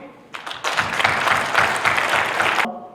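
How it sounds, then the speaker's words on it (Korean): Audience at a book concert bursts into loud, steady applause after a short scattered start, sustained for about two seconds before cutting off abruptly. "다 함께 힘찬 박수로 나서 여러분."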